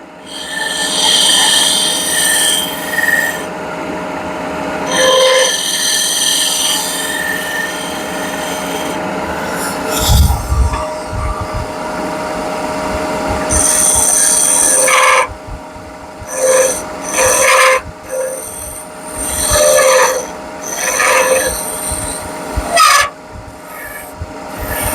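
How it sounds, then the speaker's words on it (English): Close, loud scraping as a shear scraper is drawn over wood, coming in long continuous rasping passes at first, then breaking into shorter choppy strokes with small knocks and pauses between them. "I'm just going to do a little bit of shear scrape here"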